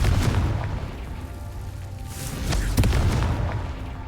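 Confringo explosion spell in the Hogwarts Legacy video game: a sustained low rumbling blast that swells around the middle, with a couple of sharp booming bursts, loud and close.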